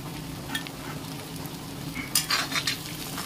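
Chopped tomatoes with salt frying in a pan as they are stirred, a soft steady sizzle with scraping strokes that grow louder and busier toward the end, no voices.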